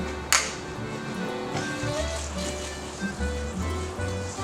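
Water runs steadily from a tap into a pot of dry pasta in a home kitchen, a soft continuous pour with a low hum underneath and a sharp clink near the start.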